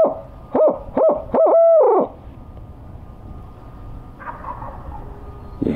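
A hunter imitates an owl with his voice, giving a rhythmic series of about four loud, close hoots during a public land turkey hunt, then quiet woodland with faint distant sounds.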